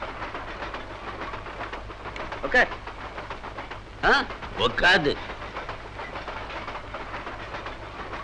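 Steady rumble and clatter of a moving train carriage runs throughout at moderate level, with a few brief voices speaking over it.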